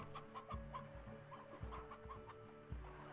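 A chicken in the game Slime Rancher clucks repeatedly in short bursts over a steady droning game soundtrack, moderately loud with no talking.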